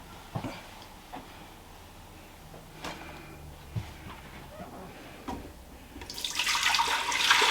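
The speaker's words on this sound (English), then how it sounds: "I am going to then put some water in the pot." Water pours into the pot of a Ninja Foodi multicooker for boiling spaghetti. A few light clunks of handling come first, then the rushing pour grows louder at the end.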